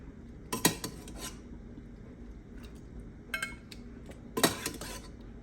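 Home-kitchen plating of cube steak and gravy: a few sharp clinks and scrapes of utensils against a plate and dishes, in short separated bursts over a quiet background.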